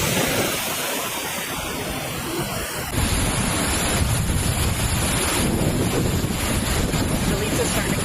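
Roaring hurricane wind and heavy surf from Hurricane Melissa battering Jamaica, a loud, unbroken rush of storm noise buffeting the microphone, with crashing wave energy throughout and a sharper gusting shift partway through.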